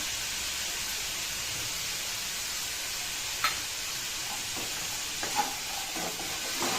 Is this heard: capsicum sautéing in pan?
yes